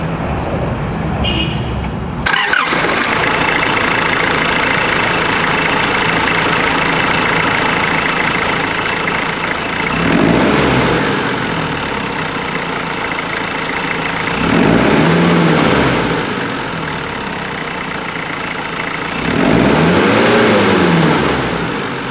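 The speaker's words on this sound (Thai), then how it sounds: "มาฟังเสียงเครื่องยนต์กัน" A Nissan Terrano II R20 SUV's KA24E inline four-cylinder, single overhead cam, 12-valve engine idles with a steady rumble, then blips through three throttle revs spaced several seconds apart, loud and close.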